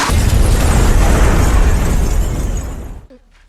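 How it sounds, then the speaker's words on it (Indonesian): A loud explosion in an action film erupts as a sustained, booming roar that rumbles for about three seconds before cutting off abruptly into near silence. "Bonnie, Grace, Putri, Chloe, dan Zoe berhasil selamat dari ledakan itu."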